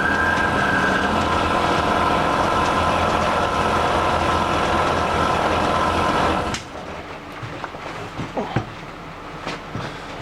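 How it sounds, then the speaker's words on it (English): A bandsaw cuts through a mill cutter with a steady, loud droning whir that runs for several seconds, then stops abruptly, leaving quieter clicks and shop noises. "I'm on the bandsaw."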